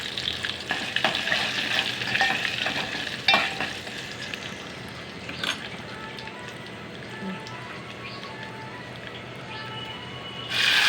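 Spices sizzle in hot oil while tempering for a ridge gourd curd chutney, a close, continuous crackle with a few louder pops and stirring scrapes, and a brief louder flare at the end.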